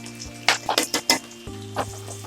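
Oil sizzles steadily as chopped large onions fry in a pan, with a few sharp clinks and scrapes of a utensil stirring against the metal.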